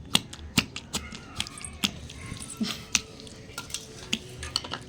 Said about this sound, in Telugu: ఇప్పుడు ఉల్లిపాయ ముక్కలను వేసుకుని దంచుకుందాం